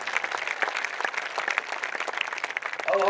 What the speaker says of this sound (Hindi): ओकरो मन पर जोरदार ताली